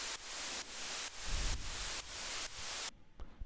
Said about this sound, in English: white noise, it covers the whole spectrum, so you need to remove the low end